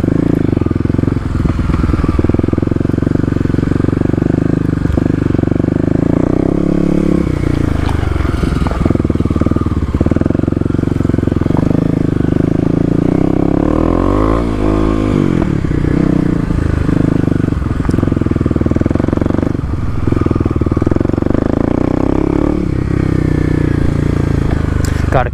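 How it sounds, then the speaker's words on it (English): Kawasaki KLX250 dirt bike riding off-road through mud and gravel, its single-cylinder engine droning steadily with rising and falling revs and clattering over rough ground, with a rider talking over it throughout. "Traction-wise, tires seem to be hooking up pretty well in the mud"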